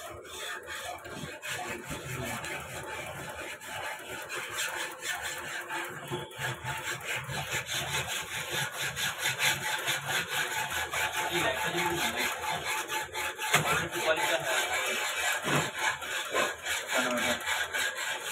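Double-cut hand file working metal held tight in a bench vice, a steady rasping scrape repeating in strokes throughout, close and fairly loud with faint background noise.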